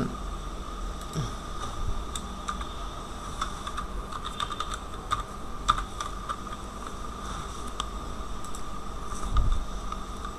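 Computer keyboard typing text into Illustrator, a steady run of light, close key clicks over low background hiss, with no talking.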